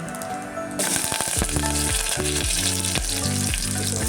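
Garlic drops into hot oil in a deep pot already holding cumin and mustard seeds, bursting into a loud, steady sizzle, with crackling and spatters continuing up close.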